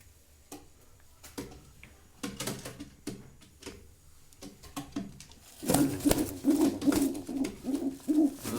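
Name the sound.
pigeons cooing in a pigeon coop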